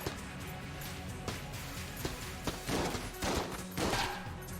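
Dense, continuous gunfire from a bouncing-shot weapon in Enter the Gungeon, with repeated sharp bursts spread over a busy, loud mix of game sound effects.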